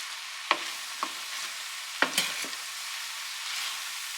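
Chicken pancit noodles stirred in a pan, giving a few soft scraping and clinking strokes over a faint sizzle, fairly quiet and close, with no one speaking.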